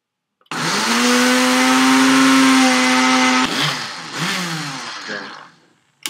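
A blender grinding almonds into almond butter gives a loud, steady motor whine for about three seconds. It then sags and struggles, revs up again briefly and cuts off.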